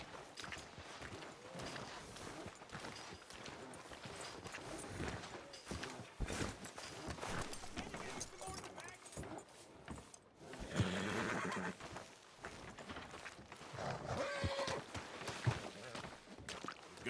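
Horse neighing and whinnying in a Red Dead Redemption 2 town scene, with hooves clip-clopping and shuffling nearby and other street noise, plus a sharper whinny burst partway through.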